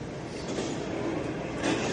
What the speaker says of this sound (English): So I'll wait for the train here.